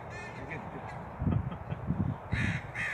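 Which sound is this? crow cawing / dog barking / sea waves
crow cawing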